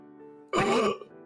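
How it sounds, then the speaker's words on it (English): A single throaty cough-like rasp from someone hiding inside a box, muffled and close, preceded by a low droning tone and followed by a brief second burst at the end. "He backs away when he hears a cough from the inside"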